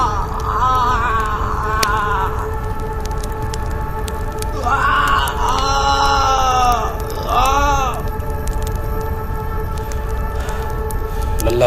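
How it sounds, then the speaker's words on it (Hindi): A blood vampire screams loudly while burning in fire in a horror cartoon story: drawn-out, wavering, groaning cries that rise and fall several times over a steady droning background. "रक्त पिशाच जोर जोर से चिल्लाने लगा।"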